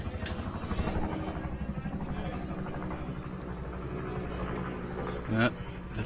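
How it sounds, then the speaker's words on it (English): A helicopter flying overhead during a rugby league match thumps steadily with a rhythmic rotor beat, fairly loud and continuous, while a voice talks over it. "Another big helicopter popping over the top"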